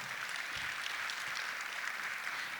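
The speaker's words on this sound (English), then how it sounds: "thank you so much for clapping" Faint, distant audience applause at a youth business awards ceremony in KwaZulu-Natal, a soft, even wash of many hands clapping at low level with no distinct individual claps.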